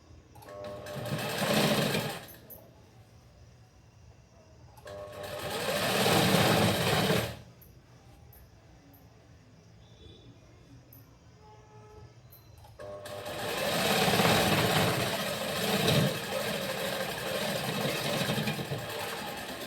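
A sewing machine stitches a blouse in three bursts of rapid, rattling mechanical clatter separated by quiet pauses, close and moderately loud.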